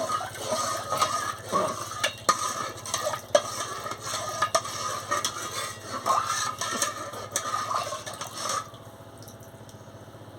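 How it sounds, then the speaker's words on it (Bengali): Milk mixed with Amul milk gets stirred steadily in a pot for milk pitha, a spoon scraping and clinking against the metal in an uneven rhythm over a low background hum, close up; the stirring stops near the end. "দেখুন আমি ভালো করে নাড়িয়ে নিচ্ছি"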